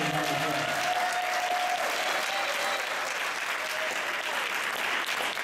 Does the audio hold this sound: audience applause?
yes